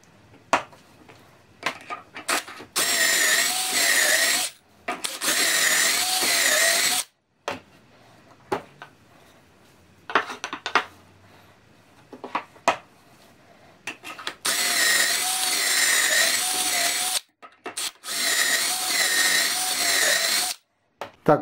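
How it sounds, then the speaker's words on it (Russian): A power drill bores pocket holes through short wooden blanks set in a jig, with several loud, close bursts of whining drilling separated by pauses filled with clicks and handling noise. "Сейчас насверлю отверстие в коротких заготовках при помощи вот такой вот приспособы."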